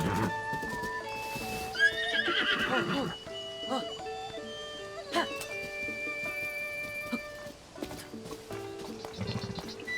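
A horse whinnies in Zelda: Tears of the Kingdom, with a drawn-out neigh early on amid steady game music, hoof clatter and other in-game sounds.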